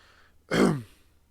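A single short, gruff throat clearing, close and fairly loud, with quiet surroundings before and after.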